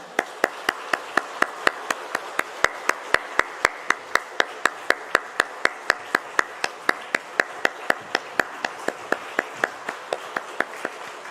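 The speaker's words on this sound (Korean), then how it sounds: "다시 한번 뜨겁게 한번 박수하겠습니다." A church congregation claps in a steady, even rhythm, each sharp clap landing at a regular beat for about eleven seconds at moderate loudness, with no talking over it.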